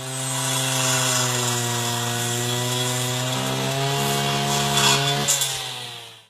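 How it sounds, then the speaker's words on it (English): A gasoline brush cutter with a rotating blade cuts weeds, its small engine droning loudly and steadily with a buzzing, harmonic-rich whine that rises slightly near the end before cutting off, with no talk. "Rotating cutting tool of the weeder throws small stones and pebbles on the front side."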